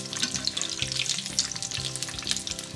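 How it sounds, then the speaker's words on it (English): Vegetable cutlets frying golden brown in oil, a dense, continuous close-up sizzle with bright crackling spatter and low bubbling, no voices. "now we're going to flip them over and allow them to fry for another 3 minutes"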